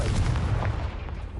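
Confringo explosive spell cast in Hogwarts Legacy, a short run of heavy booming blasts with deep low-end thumps, fairly loud and close, fading slightly by the end.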